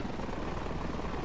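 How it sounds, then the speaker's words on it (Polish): A helicopter in the video game Ravenfield gives off a steady, loud rotor and engine rumble, a dense broadband whir with no pauses over a short moment. "Tak się kradnie helikopter."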